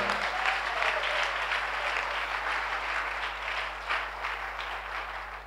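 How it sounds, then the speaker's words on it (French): A church congregation claps in praise, a continuous wash of hand-clapping over a low steady electrical hum, fairly even and sustained throughout. "Give the Lord a big clap of praise."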